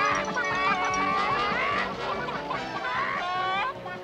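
Cartoon characters hypnotized into thinking they are chickens, their voices imitating a flock with loud, overlapping clucks and squawks that carry on continuously and close up.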